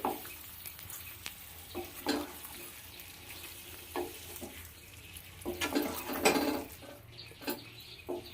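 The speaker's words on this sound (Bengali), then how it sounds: "অল্প একটু ধনে পাতা কুচিয়ে কেটে রেখেছি দিয়ে দেব ভালো করে মিশিয়ে নেব" Chopped coriander stirred into a pan of potato curry, with irregular scraping and clacking of a spoon against the pan over a soft sizzle, heard close and alone.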